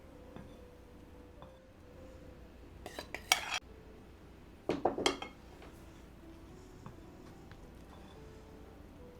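Cherry pie batter folded in a bowl, mostly quiet soft mixing with two short bursts of utensil clinking against the bowl near the middle.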